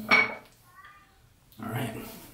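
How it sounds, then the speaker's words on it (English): A ceramic shaving bowl full of lather is set down with a single short clink near the start, followed by quiet and then someone talking. "So I'll place the bowl down."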